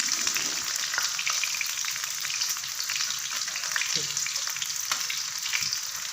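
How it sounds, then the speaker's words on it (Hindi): Chicken legs fry steadily in a pan of hot oil at home, giving a continuous close sizzle with scattered crackles and a few soft utensil touches, no talking. "ये बहुत अच्छे तरीके से फ्राई हो रही है।"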